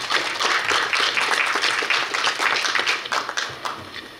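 An audience applauds to welcome a new student at the Korea University KU-KIST graduate school entrance ceremony: dense, steady clapping from a full hall that holds throughout and thins slightly at the end.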